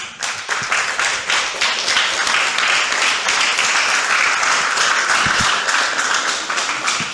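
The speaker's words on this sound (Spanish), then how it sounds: "Denle un aplauso al Rey." A church congregation breaks into loud, sustained applause during a sermon, dense clapping filling the space steadily from start to finish with no voices over it.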